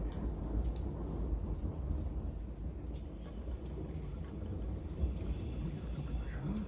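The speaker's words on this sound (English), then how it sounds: "we're going to have the soundtrack of Mother Nature thunderstorms in the background today" A thunderstorm outside keeps up a continuous low, distant rumble, with a hiss of rain or wind over it, throughout the whole stretch without a break.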